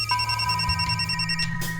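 A phone rings for an incoming call from dad, an electronic ringtone that repeats steadily and sounds fairly close, with no talk over it.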